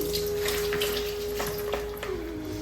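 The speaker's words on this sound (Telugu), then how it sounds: "మళ్ళీ ఒక్కసారి అలా వాష్ చేసేసి వాటర్ పోయేంతవరకు ఇక్కడ ఉంచేద్దాం" Tap water runs steadily and close by while vegetables such as bitter gourd and curry leaves are rinsed, making a continuous splashing flow with no pauses.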